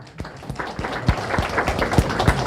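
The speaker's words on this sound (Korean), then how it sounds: "박수 한번 쳐주세요" An audience of university students in a lecture hall applauds a student team, a moderate, fairly close patter of claps running steadily with a few sharper individual hand claps standing out.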